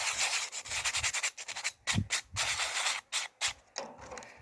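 Steady rubbing and sanding strokes scrape across a sanded art surface in a studio, close and rhythmic with short pauses between passes and no talking.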